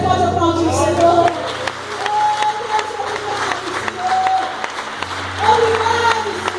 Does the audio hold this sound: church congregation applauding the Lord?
yes